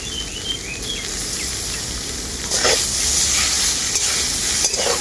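Spiced mashed potato and soya chunks are stir-fried in a pan with a steady sizzle under repeated scraping strokes of the spatula, close and fairly loud.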